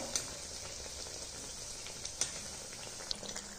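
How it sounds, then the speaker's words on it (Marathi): Poha and potato snack deep-frying in hot oil, a steady bubbling hiss with a few small pops, close and moderately quiet throughout. "ह्याला लालसर होईपर्यंत आपण तळून घेणार आहोत"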